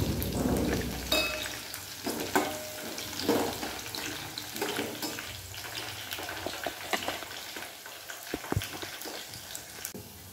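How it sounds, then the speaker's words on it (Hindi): Green chilies and mustard seeds fry in a steel pan on a Rajasthani home stove, giving a steady close sizzle with scattered pops and crackles, plus a few bright clinks of a utensil against the metal. "मैंने पहले मिर्ची इसलिए डाली है क्योंकि ये स्टील का है ना, तो राई डालते ही उछल जाती है"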